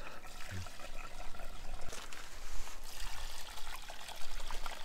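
Fuel glugs and trickles steadily from a canister into a tank at 4,000 metres altitude in Kyrgyzstan, with a continuous gurgling pour and outdoor rushing noise.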